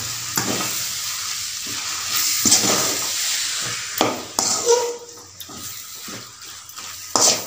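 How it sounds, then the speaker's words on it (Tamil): A thuthuvalai stir-fry (poriyal) is stirred in a pan, with scraping and knocking spatula strokes over a gentle sizzle that fades and returns, and no talking. "அடி பிடிக்காமல் நல்லா கிளறி விட்டோமா நல்லா இதாகிருக்கும்."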